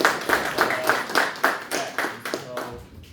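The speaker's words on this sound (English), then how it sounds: "So just a quick round of applause for them as well." An audience gives event organizers a quick round of clapping at a CFA/CPA speaker panel, a short burst of rhythmic hand claps tapering off after about three seconds.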